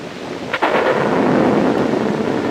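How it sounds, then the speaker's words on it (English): Thunderstorm over New York: a sudden crack of thunder breaks into a loud, sustained rumble with a hiss like rain, close and dominant for a few seconds. "as the storm sweeps over New York, there's nothing to do but wait"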